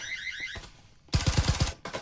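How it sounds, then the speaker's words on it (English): Buzzers blare in the Breachers competitive VR shooter, a harsh tonal alarm at first, then a loud stretch of rapid, pulsing bursts. "Buzzers blaring."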